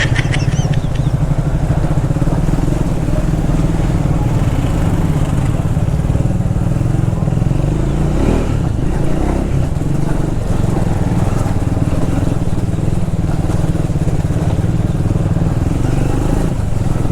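A Triumph Speed 400 motorcycle engine drones steadily while being ridden, a continuous close mid-pitched hum with wind and road noise throughout, while a rider talks over it.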